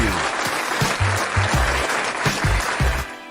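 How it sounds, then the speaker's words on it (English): A thick wash of clapping for the listeners of a 49ers sports talk show, loud and continuous, with a rhythmic low thumping beat underneath that eases off near the end. "Let's give a big round of applause to all the real talkers"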